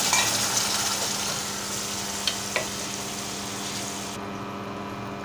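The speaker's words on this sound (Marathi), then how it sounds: "मिक्सरमध्ये वाटलेलं वाटण घालत आहे." Ground masala paste sautéing in oil with onion for a Marathi kartoli (spiny gourd) vegetable dish, a steady close sizzle with a couple of faint utensil taps, continuous and even throughout.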